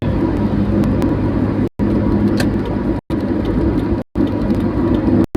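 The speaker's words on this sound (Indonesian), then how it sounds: "Banyak nih udah banyak truk kontainer bis atau kota nih" Busy road traffic in Bekasi with container trucks and city buses, heard from inside a moving vehicle as a steady broad rumble that continues throughout, broken by a few brief dropouts.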